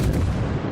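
Main guns of a French cruiser firing in the World of Warships naval game, a single heavy, booming report that fills the brief moment.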